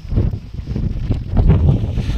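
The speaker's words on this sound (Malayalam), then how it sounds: "ആഹാ, എന്നാ കാറ്റ്!" Strong wind buffets the microphone at a hilltop viewpoint on the Thalanar tea estate in Valparai, a steady low rumble and roar that swells toward the end, with no speech.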